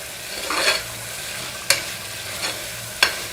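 Vegetable pieces frying in a pan on a medium flame for bagara rice, with a soft steady sizzle broken by a few sharp stirring scrapes, close and alone without voices.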